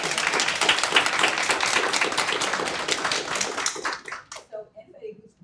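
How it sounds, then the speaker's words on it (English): An audience claps for the panelists at a maternal health advocacy discussion, dense applause for about four seconds that thins out and fades to a few scattered claps at the end. "can we just give the panelists a round of applause?"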